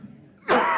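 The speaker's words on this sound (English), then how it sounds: "I end up with a cough." A single sharp cough bursts out after a quiet moment during a church service, close and loud.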